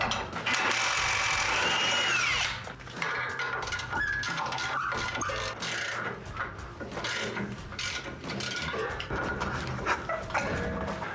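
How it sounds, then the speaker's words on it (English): An impact wrench with a 21mm socket removes a shock bolt on a RAM 1500 during a rear lift spring install, opening with a loud sustained mechanical burst, then a long stretch of rattling, ratchet-like clicks up close. "So I'm gonna use my 21 millimeter with my impacts, you can also use a ratchet on this"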